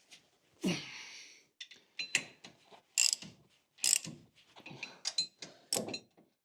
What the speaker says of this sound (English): And just tighten them up a little bit with the socket.